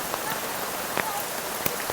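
Rain falls steadily on a forest near a waterfall, a dense soft hiss with occasional sharper drops standing out close by.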